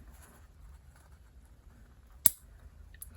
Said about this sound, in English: So I'm gonna start trimming the nails and cleaning around the toes.